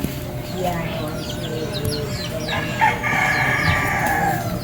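Chickens cluck and a rooster crows nearby, with scattered bird chirps and some background talk mixed in.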